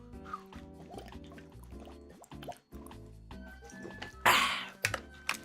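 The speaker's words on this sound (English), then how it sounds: "Do you guys want to hear what it sounds like when I drink water?" Someone drinks water close to the microphone, with wet swallowing, mouth and glugging sounds, then a louder burst of noise near the end.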